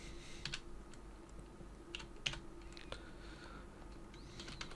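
Someone types on a computer keyboard while filling in a description, producing quiet, close, irregular key clicks in short bursts over a low steady background hum.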